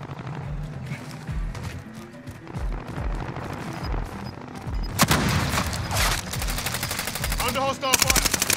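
Gunfire in the Call of Duty: Warzone video game, with scattered shots that swell into loud, sustained automatic bursts toward the end, while voices talk intermittently over the fighting.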